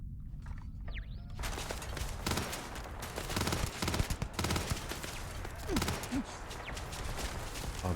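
Turret gunfire in Starfield: dense, rapid bursts of shots rattling almost continuously for several seconds, loud and close, with faint footsteps and game effects mixed in.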